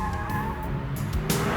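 A 1999 Porsche 911 Carrera 4 swings its rear end out in a pendulum slide, tires squealing in drawn-out tonal wails over steady engine noise, close and fairly loud.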